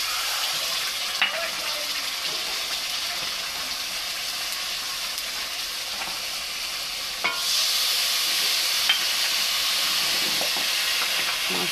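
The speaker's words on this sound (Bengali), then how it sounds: "এবার আমি এই তেলেতে এই মশলাটা দিয়ে দেবো।" Spice paste hitting hot oil in a pan while cooking a Bengali fish curry: a continuous close sizzle and hiss with occasional stirring knocks, swelling louder partway through.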